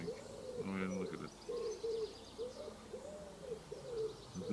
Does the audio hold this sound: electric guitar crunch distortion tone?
no